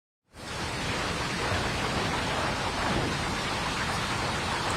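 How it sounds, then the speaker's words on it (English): Heavy rain pours down in Washington state during a severe storm, a dense, steady roar of downpour that starts abruptly and holds loud and unbroken, with no voices. "it rains all the time in Washington, right? But not like that."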